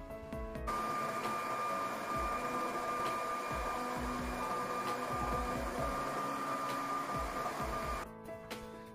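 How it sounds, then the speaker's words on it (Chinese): A BGA rework station runs steadily during removal of the GPU core from an RX 6900 XT graphics card, a loud continuous machine whir with a sustained tonal hum that stops abruptly near the end. "现在我们上 BGA 把这个核心给拆下来"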